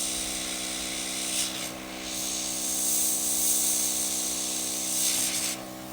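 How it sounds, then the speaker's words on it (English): A continuous hissing spray from an airbrush onto a nail stencil, with a steady mechanical hum beneath, the hiss briefly dipping and swelling a few times. "So you see I'm spraying on the stencil, I'm not spraying around it, just on the stencil"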